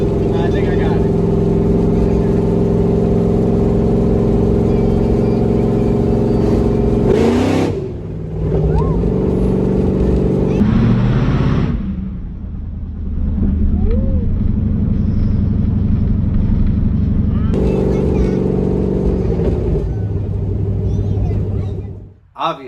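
A 1974 Nova's engine rumbles loudly with a couple of revving blips, dipping and rising near the microphone as people talk over it inside the car.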